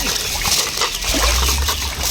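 Continuous splashing and sloshing water, close and fairly loud, with a steady broadband wash throughout.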